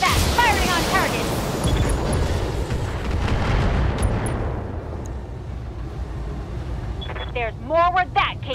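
Mech weapons in the BattleTech video game fire on a target as a dense, loud roar of booming artillery-like blasts. A radio voice speaks over the opening, and fresh chatter returns near the end.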